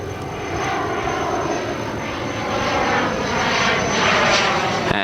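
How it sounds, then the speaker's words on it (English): A Cessna Citation private jet passes overhead at Gold Coast Airport on a sunny day, its loud, steady engine roar swelling slightly toward the end with no talking. "Little Cessna Citation."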